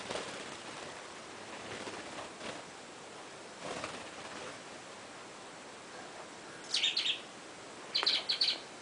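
A pet budgie parakeet at play lets out two short bursts of bright chirps near the end, above soft rustling and faint background hiss.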